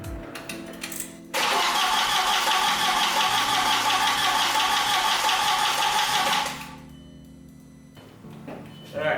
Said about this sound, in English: I have the coil packs unplugged, so I'm gonna crank it a little bit.